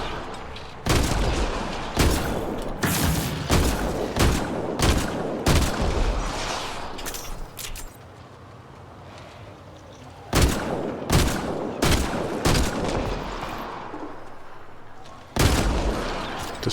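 Blasts from a katana shotgun in Mass Effect Andromeda: sharp, loud single reports fired in quick clusters, pausing briefly before further volleys resume, close and punchy.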